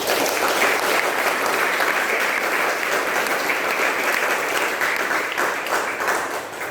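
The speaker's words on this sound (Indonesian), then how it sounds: "Kita juga memberi penghormatan tepuk tangan untuk Bapak Ri." Sustained, full applause from a church gathering, honoring a member at a new church building event in Loon; dense, even clapping throughout, loud and close, tapering slightly at the end, with no talk over it.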